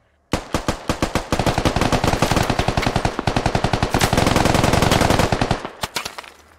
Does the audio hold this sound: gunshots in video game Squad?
yes